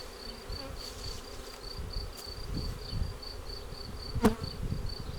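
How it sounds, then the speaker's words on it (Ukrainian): A honeybee swarm hums in a steady, close buzz of many wings as the bees fly toward a hive, with individual bees passing near and one sharper buzz standing out. "То вони, по ідеї, повинні б зараз усі залетіти у вулик."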